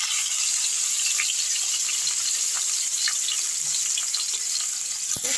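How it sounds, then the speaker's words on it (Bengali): Pieces of rohu fish, rubbed with salt and turmeric, frying in mustard oil in a wok, a steady broad hiss of sizzling oil throughout with small pops and no talk. "এবার আমি মাছগুলো নুন হলুদ দিয়ে ভেজে, নুন হলুদ মাখিয়ে রেখেছিলাম, ওইগুলো একটা একটা করে ছেড়ে দিচ্ছি।"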